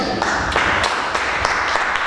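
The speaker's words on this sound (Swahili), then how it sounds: "Makofi mazuri kwa mtumishi" Applause for a minister at a gospel album launch: a crowd claps steadily and fairly loudly throughout, with a few sharper individual claps standing out close by.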